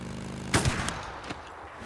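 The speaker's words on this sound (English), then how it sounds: "Sniper ambush on the road" Gunfire from a sniper ambush on a road in the game Days Gone: one loud, sharp shot with a short rumbling tail, then a fainter second report about a second later.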